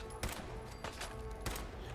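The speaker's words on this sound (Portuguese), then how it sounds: "Tentar dar uns tiros à distância aqui, porque os caras estão tudo longe de mim." Rifle gunshots from the Fallout 4 video game fired at distant enemies: three sharp broadband shots roughly a second apart, over a steady low game background.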